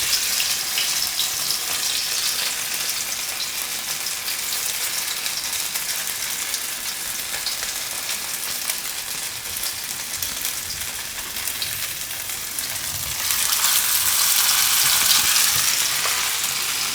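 Sabudana and green pea tikki frying in hot oil give off a steady, dense sizzle and crackle throughout, growing louder and brighter near the end, with no voices.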